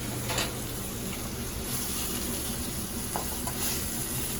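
A salmon fillet searing in a hot pan after flipping, a steady low sizzle and faint crackle of frying with occasional soft spatters, quiet and continuous throughout.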